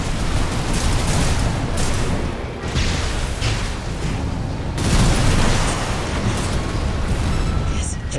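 Armored Core VI: Fires of Rubicon boss fight against the Sea Spider, with dense continuous gunfire, booming explosions and rumbling impacts layered loudly throughout, heavier blasts surging near the middle.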